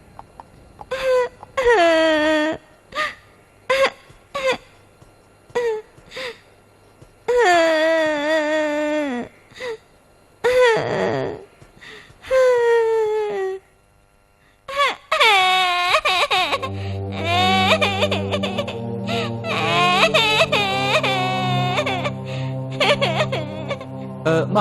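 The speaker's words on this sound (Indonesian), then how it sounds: "Tapi tangisan itu membuatku ingin tahu apa yang terjadi." Someone cries and wails in repeated drawn-out bursts separated by pauses, loud and close. Partway through, the sobbing continues over sustained background tones.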